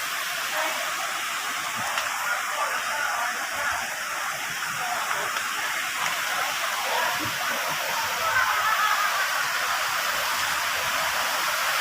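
Clear river water at Mount Banahaw rushes past in a steady, broadband hiss of flowing water, continuous and fairly close with no distinct pauses.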